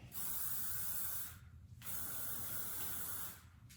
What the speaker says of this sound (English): I'm gonna just take some hairspray,